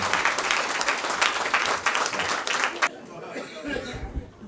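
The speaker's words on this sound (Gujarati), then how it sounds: "ક્યાં વાત એકવાર ખૂબ તાળીઓ કવિ અનિલ ચાવડા" Loud applause from an audience at a Gujarati poetry recital fills the first few seconds, then fades into quieter murmuring.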